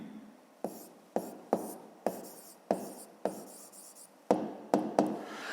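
A pen writes on paper in a fifth-grade geometry exercise, giving about ten crisp, separate strokes in an uneven rhythm, close and quiet with no talk over them.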